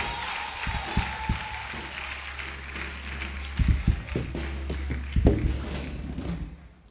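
Church congregation applauds a visiting pastor being welcomed, steady scattered clapping through the hall with a few sharp thumps and louder bursts, moderately distant and fading at the end.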